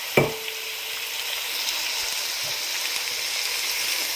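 Half-boiled vegetables hit hot oil and masala in a pan for vegetable biryani, giving a sharp initial splash then a steady, even sizzle that holds throughout, with no talking.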